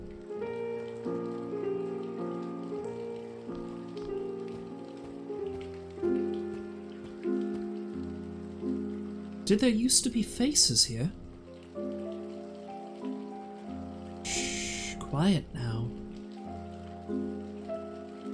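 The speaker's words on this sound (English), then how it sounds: "How long has it been raining?" Rain falls in a spooky Halloween video game, a soft steady patter beneath sustained eerie music, with brief spoken lines and swelling tones partway through.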